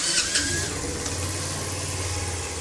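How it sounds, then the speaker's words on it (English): A motorcycle engine runs steadily nearby with a low, even idle hum throughout, and no other sounds are heard. "So I find the easiest way to do this is by starting up the bike, sticking it into first gear."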